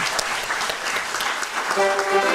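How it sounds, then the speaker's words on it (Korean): Congregation clapping in a church during a festival proclamation service, a dense, continuous round of applause at moderate level with a faint sustained tone emerging near the end. "하나님 앞에 영광의 박수 올려드리겠습니다"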